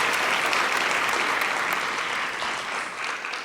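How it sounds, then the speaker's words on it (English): Sustained audience applause at an Indian classical dance arangetram for the dancer Rhea, a dense even wash of many hands clapping together, fading slightly toward the end. "Maybe another round of applause for Rhea"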